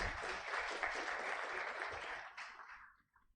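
Applause at an NGO symposium, where the audience claps for itself, comes as a dense burst of clapping that fades out over the last second.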